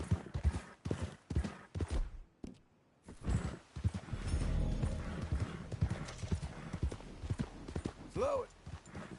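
Hooves clip-clop at an easy walking pace, close by, with a horse snorting and a brief whinny near the end, and a person talking in between, in Red Dead Redemption 2.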